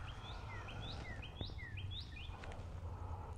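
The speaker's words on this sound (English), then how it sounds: "Do you hear that bird singing for us?" Several short, rising bird chirps repeat at a steady pace over a low, constant background rumble, somewhat distant but clear.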